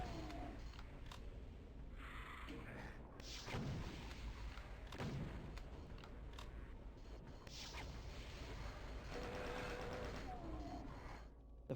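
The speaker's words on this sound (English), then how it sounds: "The backing MIDI sounds like a war zone with helicopters and gunshots mixed into a wholly alien droning that drowns the senses in thick sludge." Doom wad MIDI backing track from the video game, a dense, continuous wall of alien droning layered with helicopter rotors and repeated gunshot-like bursts, loud and steady throughout with no talking.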